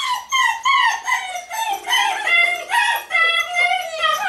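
Several 5.5-week-old German Shepherd puppies yelp, whine and squeal continuously, with high overlapping cries filling the scene fairly close by and no one talking.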